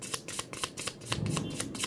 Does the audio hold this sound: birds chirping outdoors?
no